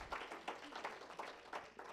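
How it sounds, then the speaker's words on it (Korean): Church congregation applauding two newly appointed deacons, a short burst of faint, scattered clapping in uneven bursts of about three per second. "aplauso para felicitarlos"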